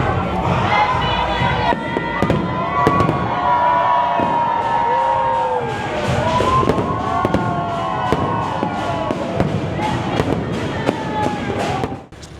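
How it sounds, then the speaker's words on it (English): New Year fireworks in Brunei crackle and pop continuously over a noisy crowd, with cheering, whoops and children shouting mixed in throughout. "there is firework, but it's very minimal, not that much"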